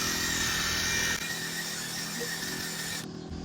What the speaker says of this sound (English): have this drill brush attachment to your drill